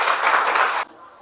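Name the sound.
applause for a student group in class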